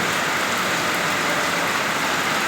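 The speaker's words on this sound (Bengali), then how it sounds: "এই সময় একদম অনেক বৃষ্টি, দেখেন খুব বৃষ্টি হইতেছে।" Heavy rain pours continuously outside a school during a downpour, a dense, loud, even hiss with no letup and no voices.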